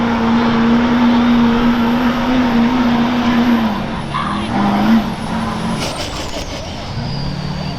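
A turbocharged 2005 Chevy diesel pulling truck roars at a truck pull in Hub City, Wisconsin, a loud steady engine drone with a high turbo whistle that rises and falls, staying close and continuous throughout.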